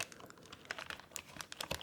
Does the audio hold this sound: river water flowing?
no